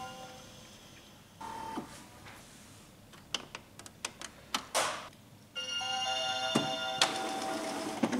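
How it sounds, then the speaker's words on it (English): An Epson WF-2630 inkjet printer powers off and back on after a waste ink counter reset, giving a short beep followed by a run of mechanical clicks, ticks and whirring motor sweeps as it restarts. The printer is close and heard alone. "Turn off the printer and turn it on again."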